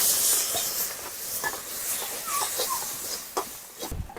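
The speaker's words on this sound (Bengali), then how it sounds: "সামনে একটু জল দিয়ে মশলাটা ভালো করে ভেজে নেবো।" Chaat masala spices frying in a pan with a splash of water give off a loud, steady hiss of sizzling steam. Faint crackles and pops rise now and then above the hiss.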